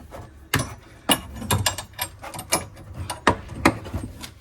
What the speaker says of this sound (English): your hose that has the female iron on the end, so that can go onto the actual non-return valve. Just literally click that in there like that